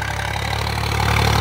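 Swaraj 744 XT tractor engine running, a steady low diesel idle with an even mechanical throb, close and continuous for the whole short stretch, with no talking.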